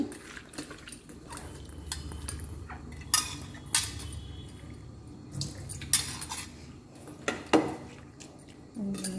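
Prawns being mixed and rinsed in a bowl while preparing prawn pakora, with wet squelching, clinks of a utensil against the bowl and scattered sharp taps, close and fairly quiet, no speech.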